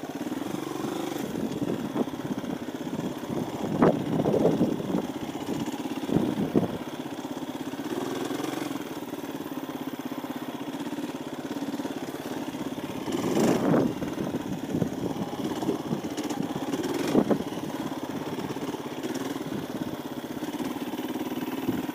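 A KTM dual sport motorcycle rides through town, its mid-pitched engine droning steadily and close with brief swells of throttle and occasional surrounding traffic noise.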